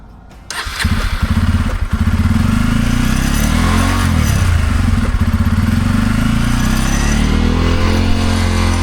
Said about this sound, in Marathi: तर फायनल आपली बाईक चालू झाली आहे